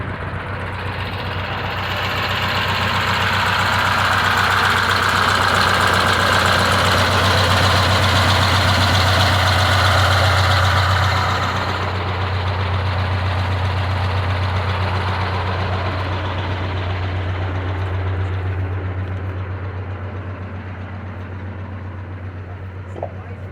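An old truck engine idles steadily and fairly close, a low throbbing rumble holding an even rhythm throughout, with a brief rise in noise midway before settling back.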